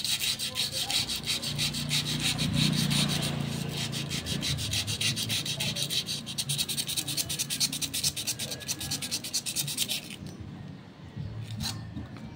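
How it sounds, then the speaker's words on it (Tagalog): Quick, regular strokes of sandpaper scrub a scratched wall fan surface up close, a steady scratchy rhythm that continues for about ten seconds before fading to quieter rubbing. "So nililiha ko na siya"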